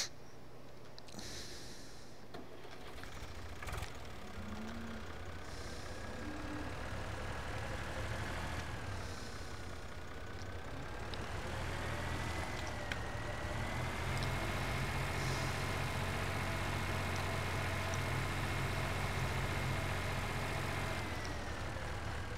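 A small farm tractor engine runs steadily nearby, a continuous low rumbling drone that holds at an even level, with a slight rise in intensity partway through and no talking.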